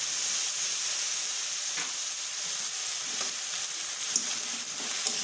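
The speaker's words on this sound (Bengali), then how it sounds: "জল দিয়ে ভালো করে একটু কষিয়ে নেব।" Bhola fish curry with potatoes and green tomato sizzles steadily in a pan, a continuous bright frying crackle with occasional soft scrapes and clinks of a spoon stirring.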